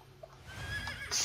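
A horse in the video game Drakensang lets out a short whinny at close range, rising at the end, with a soft hoof thump before it.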